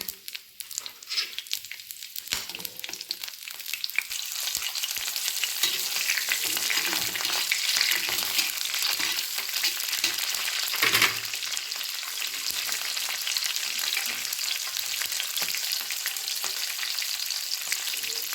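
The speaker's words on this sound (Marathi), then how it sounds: "शेंगादाणे थोडे तळले की हिरव्या मिरच्या टाकायच्या" Peanuts and green chillies fry in hot oil in a pan, giving a steady close sizzle with occasional stirring scrapes, with no talk.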